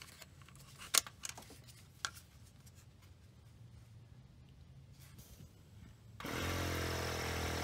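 Cadillac/GM electronic level control suspension raising the rear back up after articulation: a steady, loud compressor-like hum starts abruptly near the end and holds, after quieter faint clicks and rustling.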